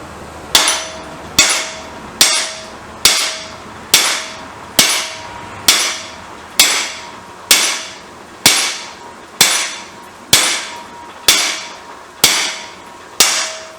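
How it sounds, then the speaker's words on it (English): Repeated metal hammer blows drive a part into a freshly drilled hole on a BSA motorcycle project, about fourteen sharp, evenly spaced strikes at roughly one per second, close and loud with ringing decay. "You can hear the sound of me hitting it."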